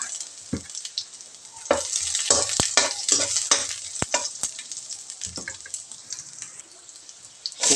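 Ginger sauteing in a little oil in a pan, a close bright sizzle with crackles and clicking stirring strokes, swelling again at the end, no speech.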